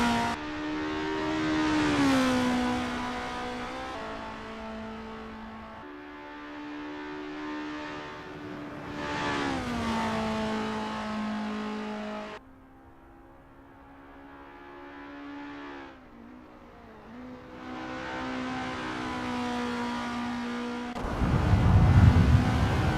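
Formula race cars warm up at Zandvoort in a racing video game, their engines droning and rising and falling in pitch through long revving sweeps. A loud burst of noise arrives at the very end.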